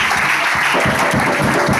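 A church congregation applauds during a Sunday worship service, a dense steady clapping from many hands that fills the space without pause.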